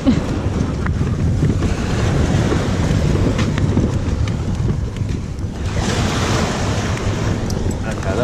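Waves break and wash on the shore in a steady, loud roar, mixed with wind buffeting the microphone, with no clear pauses throughout.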